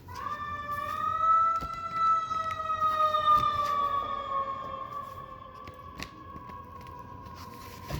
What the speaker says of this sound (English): I seen an ambulance.